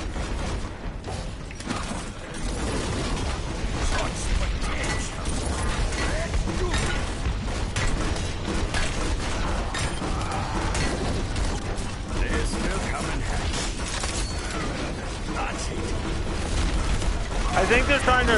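Dense, continuous gunfire and turret fire in an Overwatch match, with rapid clattering bursts and booms, loud and unbroken, with voices talking over it.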